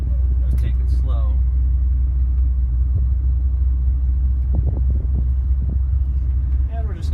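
A 1966 Ford Thunderbird with a 390 engine rolls slowly down a street, its low steady engine rumble dominating beneath occasional talk and brief incidental clicks.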